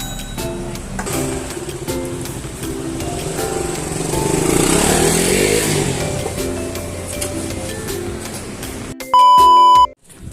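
A motorcycle engine drones nearby, swelling to a louder rev in the middle and easing off, followed by a short electronic beep at the end.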